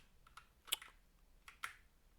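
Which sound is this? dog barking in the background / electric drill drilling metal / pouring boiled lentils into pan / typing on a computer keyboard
typing on a computer keyboard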